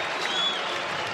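Steady applause from a basketball arena crowd at a VCU versus Saint Louis game, a dense, even wash of clapping filling the hall with no break.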